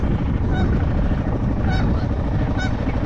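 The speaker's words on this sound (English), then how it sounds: "There's 4 baby geese, and the mothers are acting like they're wounded to distract the dogs." Geese honk three times at spaced intervals, somewhat distant, over a loud constant rumbling background noise.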